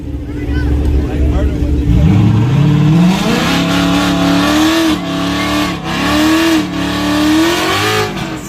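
Race cars rev and accelerate hard at a drag-style event, engines rising in pitch with shifts and sustained loud roaring, while people talk and shout nearby.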